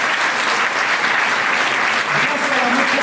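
A large audience at a 2025 New Year's wishes ceremony breaks into loud, dense, continuous applause that fills the whole stretch without a break.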